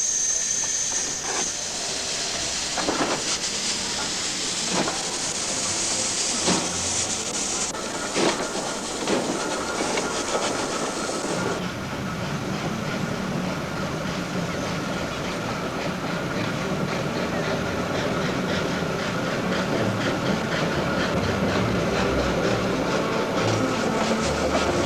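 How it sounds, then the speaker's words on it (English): Steam-era train noise, tied to Stephenson's Rocket, an early steam locomotive: a continuous loud rumble with rhythmic wheel clicks running on the rails, with no voices. "there was the rocket, built by George Stephenson and his son Robert"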